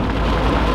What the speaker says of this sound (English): rainy, very miserable today.